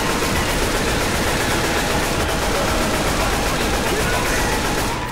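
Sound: gunfire from video game Left 4 Dead 2

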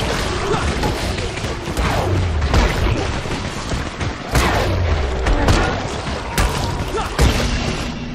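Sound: firecrackers exploding in Dying Light video game

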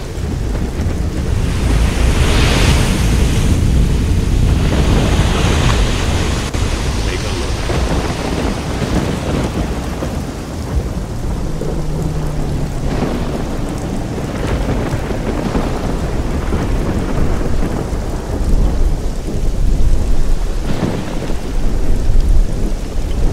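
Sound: thunderstorm with rain in a video game

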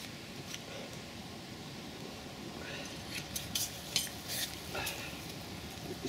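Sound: food sizzling in a pan over a campfire

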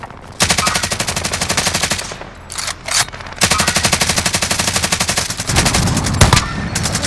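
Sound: gunfire in video game Call of Duty

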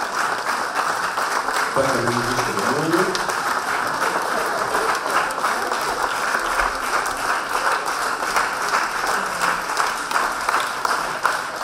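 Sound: audience applauding at unveiling of Tyrš monument

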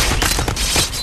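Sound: explosion in Happy Wheels video game

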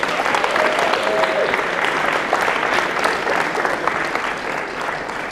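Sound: audience applause for hypnosis show volunteers

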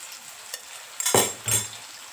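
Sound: frying and stirring after adding yogurt to biryani masala

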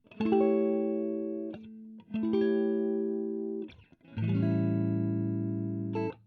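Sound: guitar playing three dominant seventh chord positions

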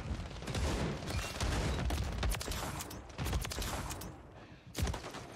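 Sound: shotgun shot in a video game

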